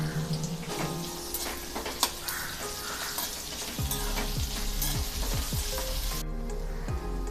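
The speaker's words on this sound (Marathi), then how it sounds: "यामध्येच आता आपण चिरून घेतलेला कांदा काढून घेऊया आणि छान सोनेरी रंग येईपर्यंत परतून घेऊया" Chopped onion fries in hot oil in a kadhai with a steady, close sizzle, overlaid by occasional stirring and scraping sounds.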